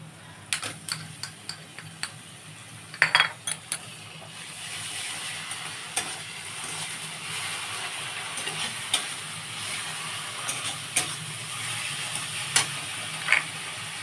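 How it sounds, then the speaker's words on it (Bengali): Garlic and ginger paste dropped into hot oil with onions in a pan sizzles steadily, broken by sharp clicks and scrapes of stirring throughout, fairly loud and close with no voice over it. "এক চামচ আছে রসুন বাটা এক চামচ আছে আদা বাটা এইটা আমি এর মধ্যে ঢেলে দিচ্ছি"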